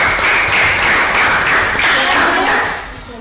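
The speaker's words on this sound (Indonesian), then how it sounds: "Tepuk tangan." Classroom applause in a school coaching and academic supervision session, a steady burst of hand clapping that carries on for about three seconds and then fades, with voices talking underneath.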